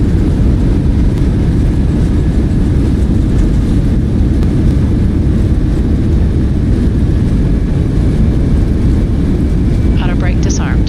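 Airliner reverse thrust roaring during landing rollout in Microsoft Flight Simulator, a loud steady low rumble filling the whole stretch without letup, with faint cockpit tones near the end.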